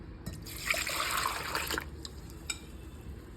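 Strained moringa leaf soup poured from a vessel into a cooking pot, a steady liquid stream splashing for about a second and a half before trailing off into faint drips.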